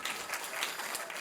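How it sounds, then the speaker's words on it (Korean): Audience at a youth talk concert applauding to close a lecture, a brief, faint burst of dense clapping. "박수로 마무리를 해주시고"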